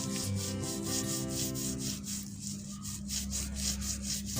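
Mud being rubbed off a letter sounds like a steady, close scratchy rubbing in quick rhythmic strokes, over a low background hum.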